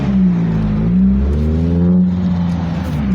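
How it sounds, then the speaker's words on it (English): A heavily loaded car in The Simpsons Hit & Run video game strains as it accelerates, its engine tone sliding up in pitch, dipping and climbing again, loud and close with no talk. "Takes a lot more effort to get the car going."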